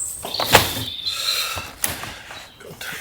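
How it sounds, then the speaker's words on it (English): A sliding shower door in a camper van is pulled open, giving a short scraping slide with a couple of knocks and light mechanical clatter, close and moderately loud, with no talking. "Got to take the door open a bit."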